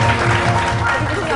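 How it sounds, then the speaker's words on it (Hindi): A studio audience at a morning talk show breaks into applause, a continuous close clatter of many hands that holds steady throughout, with speech mixed in underneath. "इसको तालियां।"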